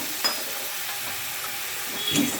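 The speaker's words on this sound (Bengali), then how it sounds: "মশলাটা ভালোভাবে আমি কষিয়ে নেব" Spice paste of turmeric, Kashmiri red chili and garam masala powders frying in a pan with a little water for a rohu fish curry: a steady close sizzle with a couple of brief stirring scrapes, no talking.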